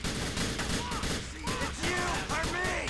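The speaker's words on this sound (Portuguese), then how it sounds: "Agora o tiroteio ficou maluco aqui, hein, galera." Dense rapid gunfire rattles throughout in GTA The Lost and Damned, loud and continuous, with a voice talking over the shooting.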